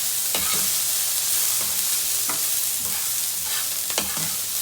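Minced meat for mince pies frying in a pan, a continuous broadband sizzle broken by several scraping stirs of a utensil, close up and with no talking.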